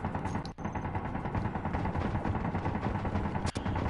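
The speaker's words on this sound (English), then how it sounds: "Well, clearly, they've got gunfire." Dense burst of gunfire, rapid overlapping shots in a steady roar of loud, continuous fire with only brief gaps, from a game set in a settlement on Mars.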